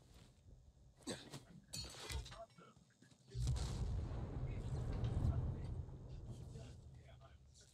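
Grenade blasts in the video game Dying Light 2 erupt as a sudden heavy boom that rolls into a long, loud rumbling roar, following scattered clanks and bursts under someone talking.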